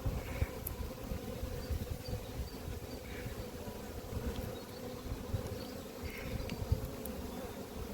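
A low, dense buzz of many honey bees hums continuously nearby at an apiary during handling, with a few individual bees whining past now and then.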